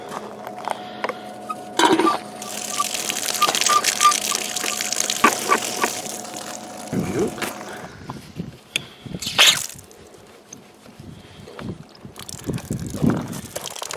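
Water gushes steadily from an outdoor camp water pipe after valves are opened, a continuous hissing rush with sputtering bursts of air and some wind noise, while someone talks now and then.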